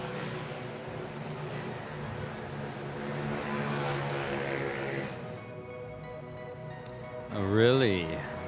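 A Cebu airliner rolls out on Manila airport runway 06, its engines a broad, steady roar heard from a distance, fading toward the end before a short burst of voice chatter.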